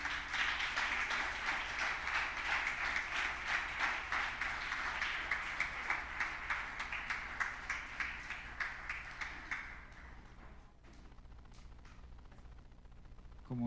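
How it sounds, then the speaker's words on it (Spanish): Church congregation applauding together, a dense, steady wash of many hands clapping that holds strong for most of the stretch, then thins to scattered claps near the end. "denle una ofrenda de palmas al Señor"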